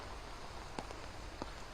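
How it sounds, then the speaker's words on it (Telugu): Heavy, steady rain falls across the Guntur district in Andhra Pradesh, a constant hiss of downpour with a few sharper drop impacts near the surface, even and unbroken with no voices. "రాత్రి నుంచి ఉమ్మడి గుంటూరు జిల్లా వ్యాప్తంగా ఎడతెరిపి లేకుండా భారీ వర్షం కురుస్తోంది"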